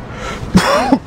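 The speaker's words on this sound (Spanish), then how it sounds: "Ay, no me deja la tos." One short, close cough with a few rough throat bursts, heard alone.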